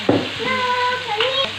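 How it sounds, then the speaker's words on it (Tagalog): Pumpkin, potato and carrot are stirred in a frying pan with a close sizzle and scraping stir strokes, and a tonal whine runs through it for about a second and a half. "So, haluin mabuti para masarap."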